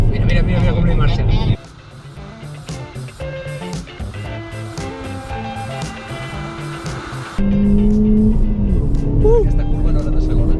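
A Ford Performance car driving fast around the Castellolí circuit at about 160 km/h, its engine roaring steadily from inside the cabin with a clear shift in pitch partway through, while people talk over it.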